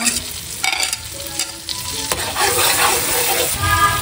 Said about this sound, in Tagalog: At ako po ay maggigisa na po ng bawang.